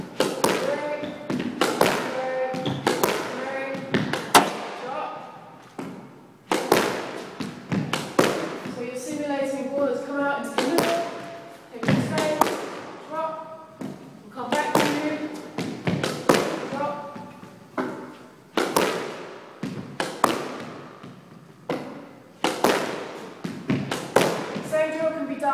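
A ball bounces and is struck in solo drop shot drills, a steady series of sharp taps and thuds spaced about a second apart, close and clear, with a voice talking between hits.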